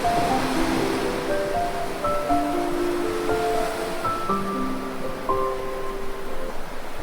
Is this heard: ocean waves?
yes